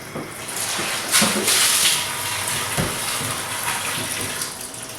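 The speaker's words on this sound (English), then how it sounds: "you turn on your water a little bit" Water runs from a tap in a steady, hissing stream, with a few small splashes and clatters nearby.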